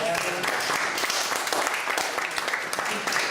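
Audience applause at the close of a university lecture on municipal democracy in Quebec City, a dense, steady clatter of many hands clapping that fills the full span at even loudness.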